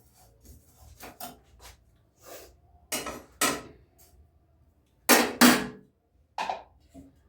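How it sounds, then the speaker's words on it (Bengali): A spoon scrapes and stirs sesame seeds frying in a pan, a run of separate rasping strokes, some soft and a few sharper and louder, with quiet pauses between. "নাড়বো, লাল করে ভেজে নেবো"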